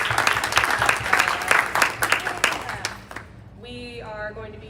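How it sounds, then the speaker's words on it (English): Audience applause at a monthly artist talk in an arts center, a lively burst of many hands clapping that dies away after about three seconds, followed by a voice speaking. "Yes, big round of applause."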